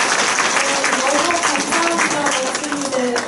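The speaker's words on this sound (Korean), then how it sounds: "우리 다시 한번 박수 쳐드릴까요?" Audience applause at a church community-welcome event, steady dense clapping filling the whole stretch at close range, fairly loud, with no voices over it.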